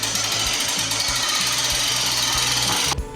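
A hand crank is turned to wind up the mast of a temporary solar LED site light, heard as a loud, rapid mechanical rattling and clicking that is steady and close, then stops abruptly near the end.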